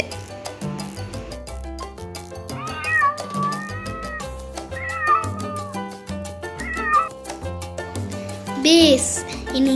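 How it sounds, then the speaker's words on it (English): A domestic cat meows several times, with short, rising calls repeating over continuous background music. "Billy, in English, cat."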